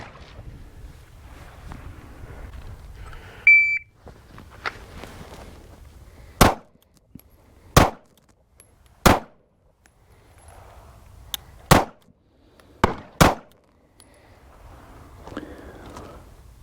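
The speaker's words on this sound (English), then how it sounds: "We are shooting for time on this one, just to get the standard, just to get our base." Six sharp pistol shots in a Bill Drill at an outdoor range, loud and distinct, spaced about a second or more apart over faint wind and background rustle, with no talk over them.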